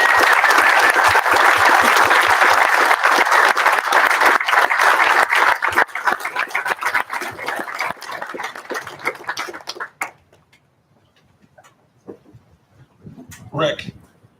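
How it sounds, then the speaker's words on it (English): Standing audience applause at a U.S. Army Corps of Engineers change of command ceremony: dense, loud clapping for about ten seconds that thins and stops, followed by a few scattered sounds. "Leadership like this deserves an applause."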